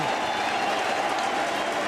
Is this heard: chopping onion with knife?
no